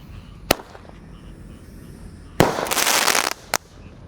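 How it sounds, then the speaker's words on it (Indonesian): A golden blitz firework launches with a sharp pop, then bursts into a loud, dense crackling spray lasting about a second, followed by a final sharp bang, all outdoors with no talk. "di sini ada golden blitz. Ini blusnya 2 kali ya, dari bawah dan di atas. Kita nyalakan."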